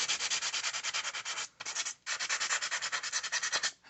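Steady rhythmic scratchy rubbing of a sanding stick on acrylic, close and fairly loud, with two short pauses between bursts.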